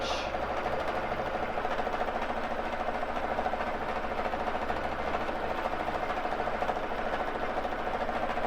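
A Baby Lock Jazz II sewing machine doing free motion quilting on a frame, with a loud, steady, fast needle whir and rhythmic mechanical chatter that runs the whole time. No one talks.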